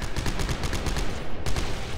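Rapid automatic gunfire from a weapon in the sci-fi horror video game Dead Space 3, loud and continuous shots in quick rhythm with a brief break near the end.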